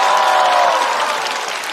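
An audience at a comedy show claps together in a dense, loud burst of applause that tapers slightly toward the end.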